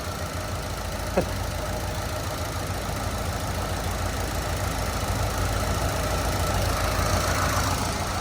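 A 1967 Lincoln Continental engine with Holley Sniper EFI idles steadily with a low, continuous rumble and faint knocking, holding an even level throughout with no talking.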